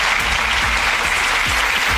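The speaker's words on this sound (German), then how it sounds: "Ich bitte um einen großen Applaus für Professor Dr. Iso Hahn." A talk show audience claps loudly and continuously for a guest on a solar energy program, a thick wash of clapping with faint low rumbles from the stage underneath.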